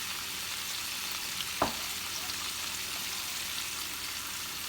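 Cabbage with bacon fries and simmers in a pan with a constant close hiss and crackle, broken once by a single sharp clink partway through.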